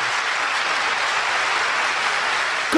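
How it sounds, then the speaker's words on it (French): A television studio audience applauds in a loud, steady burst of clapping that carries on without a break for nearly three seconds. "Comment ça, ils applaudissent?"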